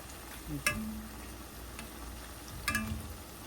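Jalebi batter spirals fry in hot oil with a soft steady bubbling hiss, interrupted twice by sharp clinks and scrapes as the pieces are flipped over in the pan.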